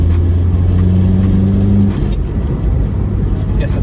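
Car fitted with a CTS Turbo downpipe, running 87 octane, revs hard in a loud, steady engine drone that drops off partway through as the throttle lifts, with a voice talking faintly over it.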